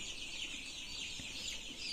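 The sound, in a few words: KUB-2 chickens clucking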